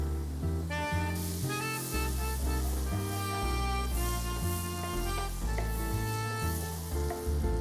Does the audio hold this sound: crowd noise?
no